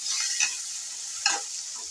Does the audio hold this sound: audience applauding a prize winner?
no